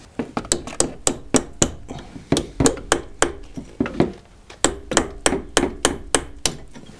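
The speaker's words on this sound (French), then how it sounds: "ça devrait venir assez facilement au marteau et au burin" Rapid, rhythmic metallic hammer blows on a chisel removing an ABS ring from a Renault Twingo, about three strikes per second, loud and close with a short pause midway.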